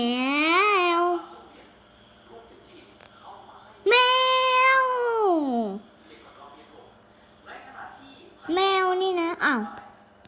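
A cat meows three times in long, drawn-out, wavering calls, loud and close, separated by quieter pauses filled with faint background noise.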